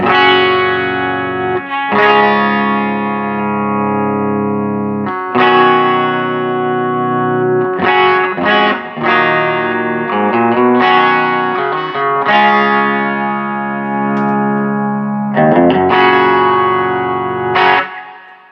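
A clean electric guitar straight through a Quilter SuperBlock UK amp, no effects, plays a series of bright, snappy chords and single-note phrases, ringing and sustaining between strums, with no other sounds.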